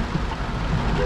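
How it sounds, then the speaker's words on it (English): Rain falls steadily during a drive in a BMW car, a soft continuous hiss of water on the vehicle with a low road rumble underneath. "check out this rain"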